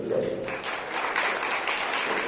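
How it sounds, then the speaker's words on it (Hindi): An audience at a senior citizens club Independence Day gathering gives a round of applause for the musicians and guests, moderately loud sustained clapping with a voice over it at the start. "एक बार सब एक बार जोरदार तालियां म्यूजिक के लिए और अपने मेहमानों के लिए स्वागत के लिए"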